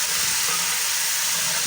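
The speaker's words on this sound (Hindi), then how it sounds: "इससे ज़्यादा नहीं पकाना, थोड़ा सा फ्राई करना है" Potato and cauliflower frying in a pan over medium heat, a steady loud sizzle of aloo gobi that runs unbroken and close with no talk.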